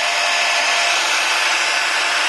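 A heat gun or blow dryer runs steadily while heating an iPhone 5 during an LCD repair, a loud, constant airy whoosh with no talking.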